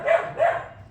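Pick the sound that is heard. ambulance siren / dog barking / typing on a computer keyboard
dog barking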